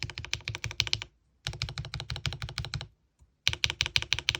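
Typing on a Qwertykeys QK75 mechanical keyboard: rapid bursts of crisp, close key clacks in three runs separated by short pauses, loud and alone with no voices.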